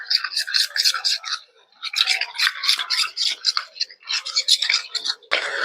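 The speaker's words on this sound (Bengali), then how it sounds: "নেড়ে মিশিয়ে নেব।" Spoon stirring rice flour and a little water in a small bowl, a close, brisk scraping and swishing in quick repeated strokes with a short pause midway.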